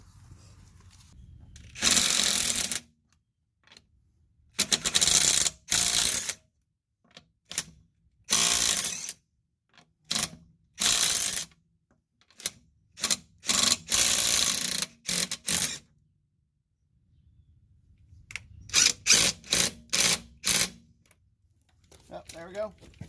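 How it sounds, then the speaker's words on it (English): A small cordless drill driver fitted with an impact socket loosens lug nuts on a 2011 Toyota Prius, with repeated loud buzzing bursts of varying length separated by pauses. "you just saw the little drill driver make easy work of these things"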